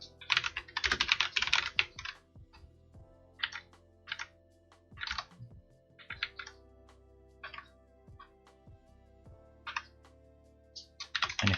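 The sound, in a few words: typing on a computer keyboard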